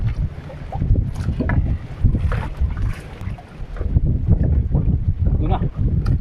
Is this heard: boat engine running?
yes